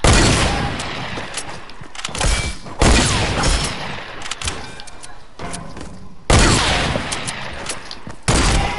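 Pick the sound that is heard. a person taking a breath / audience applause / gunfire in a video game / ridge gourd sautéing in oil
gunfire in a video game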